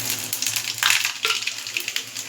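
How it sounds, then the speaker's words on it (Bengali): Dried chillies and panch phoron spices hit hot oil for a Bengali vegetable pachan tarkari, giving a close, bright crackling sizzle with brief spitting bursts over about two seconds. "তেলের মধ্যে শুকনো লঙ্কা দিয়ে দিয়েছি আর দিয়ে দেবো পাঁচফোড়ন"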